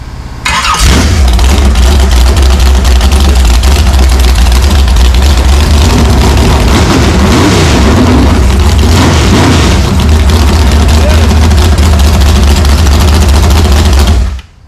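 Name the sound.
1965 Oldsmobile 400 V8 engine running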